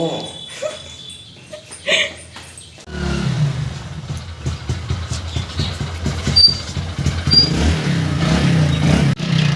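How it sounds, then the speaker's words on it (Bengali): A motorbike engine starts up around three seconds in and keeps running nearby with a steady low rumble and some revving, setting off for a long ride on a rural road. "আমরা এখন বাইক নিয়ে বেরোচ্ছি"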